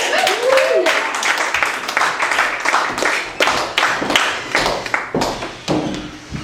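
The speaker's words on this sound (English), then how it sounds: "let's have a big round of applause for Sarah Ossick." Applause from a small audience at a poetry reading, irregular claps and taps close to the recorder, with some voices mixed in.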